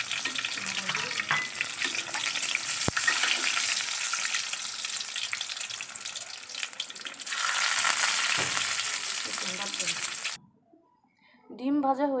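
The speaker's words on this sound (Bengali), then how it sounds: "গরম তেলে ডিমগুলো ভেজে নিচ্ছি।" Eggs fry in hot oil for an egg curry, a continuous loud sizzle and crackle for about ten seconds, with occasional stirring scrapes, then a brief quiet gap before a voice speaks.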